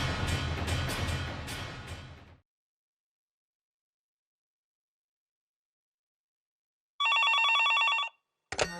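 A telephone rings in a company office, its bright, warbling electronic tone arriving as a clear burst after a long silence, following an earlier stretch of dense mixed sound.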